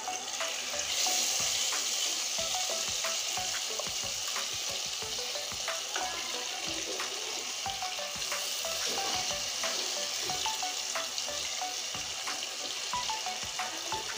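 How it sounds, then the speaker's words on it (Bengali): Rupchanda (pomfret) fish frying in hot oil in a pan, a steady dense sizzle throughout with scattered pops and crackles, close and fairly loud, no talking. "আমি মাছগুলো লাল লাল করে ভেজে নিয়েছি"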